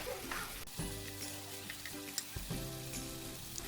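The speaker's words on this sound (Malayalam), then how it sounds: "അപ്പോൾ ചിക്കൻ ഒന്ന് 2 സൈഡ് നന്നായിട്ടൊന്ന് ഫ്രൈ ചെയ്തെടുക്കുക" Chicken pieces frying in a pan for a bakery-style hot dog bun chicken sandwich, a steady close sizzle with faint crackles, broken by a couple of brief tonal hums from the kitchen; no talking.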